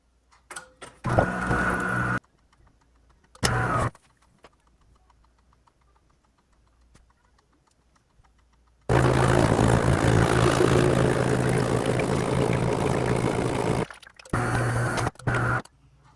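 A DeLonghi ESAM3300 Magnifica super-automatic espresso machine powers on during descaling, with short mechanical whirring bursts, quiet gaps, then a long loud steady pump-like drone followed by two more brief bursts.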